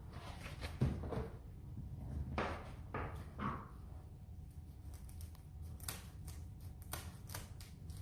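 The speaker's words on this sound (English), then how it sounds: "I'm going to cut it along this line through here." Scissors cutting through a woven seagrass mat, a series of faint, irregular crunching snips and rustles spread across the clip, close and quiet.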